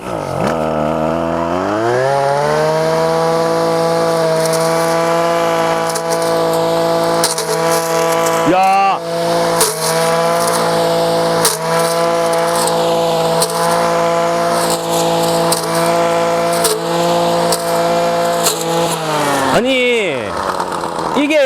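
25cc Husqvarna engine brush cutter cutting grass, a loud continuous two-stroke whine held at high revs for about twenty seconds, with a brief dip in pitch midway and a revving drop and rise near the end.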